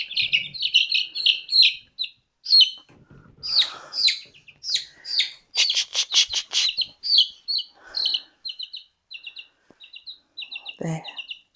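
Fourteen-day-old chicks chirp in rapid, high-pitched peeps and short trills, close and fairly loud, with a few brief rustles and a low thump near the end.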